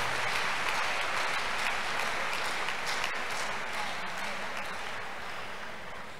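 A crusade congregation claps for Jesus in a sustained, dense wash of applause that fades slightly toward the end.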